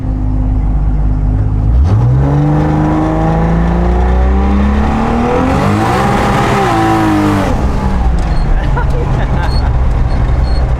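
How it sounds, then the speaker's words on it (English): A turbocharged Toyota Supra engine revs hard through rising gears with a throaty whine and turbo whoosh, loud and close, while people talk over it. "It sounds like a Supra."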